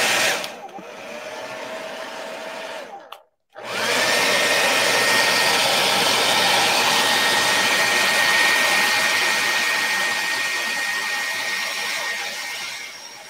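A heat dryer blows steadily over a magazine mixed-media project, a loud continuous whirring roar that cuts out briefly and then starts up again for a long, even run.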